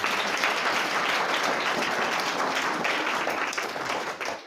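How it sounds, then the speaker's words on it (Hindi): Classroom of fifth-grade pupils clapping for a student, a dense burst of applause lasting a few seconds at moderate volume, with no speech over it. "ताली बजाओ इस बच्चे के लिए।"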